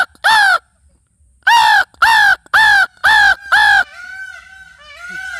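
A man imitates a crow's cawing with his voice, giving six loud, harsh caws with a pause after the first, then a drawn-out wavering call.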